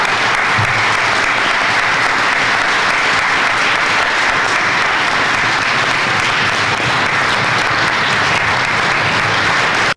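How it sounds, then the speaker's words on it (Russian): A full hall audience bursts into spontaneous applause at an official ceremony marking a new acting governor taking office, with loud, sustained, dense clapping that never lets up. "Зал, не сговариваясь, взрывается аплодисментами."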